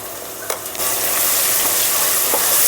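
Ginger frying in oil for tomato rice, with steady bright sizzling that swells after a couple of sharp stirring scrapes and holds loud and continuous to the end.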